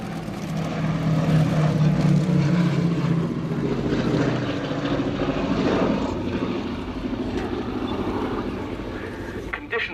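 A Boeing B-17G Flying Fortress, Sally B, flies an airshow display at RIAT 2017, its piston engines droning loud and steady with a throbbing propeller hum that slowly shifts, while a voice talks over it.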